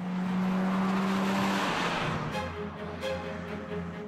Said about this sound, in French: le slalomeur Ken Neuvrouter va habilement négocier les virages avec le coupé